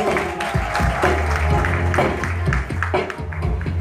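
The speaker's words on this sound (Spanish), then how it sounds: "Los aplausos nuevamente." Audience applause at a queen pageant in Argentina, a clap-like patter blended with music and a loud low hum, with sharp taps scattered throughout.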